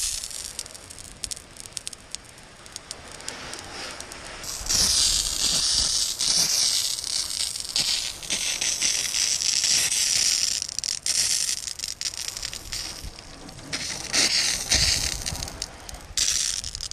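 A hose nozzle sprays water onto a Thor Magnitude RV, a close, loud hissing spray that starts after a few quieter seconds and runs on with slight surges.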